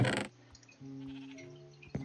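A Minecraft sheep bleats in a short clear call, followed by quiet game ambience and a faint thump at the end, with no voices.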